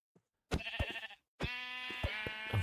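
Sheep in the video game Minecraft bleat twice, each call a fairly close, clear, wavering cry, the second longer and more sustained, with near silence before them.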